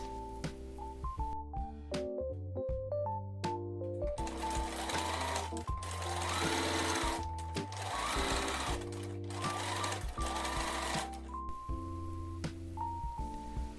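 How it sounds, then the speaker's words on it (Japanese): A sewing machine stitches a narrow line 2 mm from the front edge of a shirt dress with gathered sleeves, running in close, steady whirring bursts with brief pauses and speed changes, over faint background music. "アイロンをかけ終わったら前端から2ミリの位置にステッチをします。"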